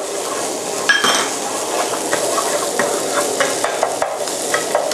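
Green curry paste stir-fried with a little coconut milk in a pan, the base for green curry fried rice with snakeskin gourami; a steady sizzle runs under repeated metal spatula scrapes and clinks against the pan, close and fairly loud, with no talking.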